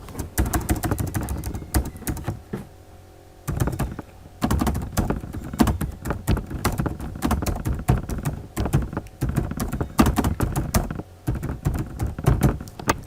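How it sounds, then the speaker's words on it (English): Fast, continuous clatter of keys on a computer keyboard, close and fairly loud, arriving in dense bursts with a few brief pauses between runs. "Just come here and type what you want to type."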